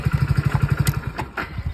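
A motorcycle engine idles nearby with a steady, rapid low putter, loud and close, with a few brief clanks over it.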